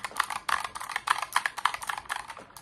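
Fast, crisp typing on a Ducky One 2 Mini mechanical keyboard, a close run of sharp key clacks in quick irregular bursts with no voice.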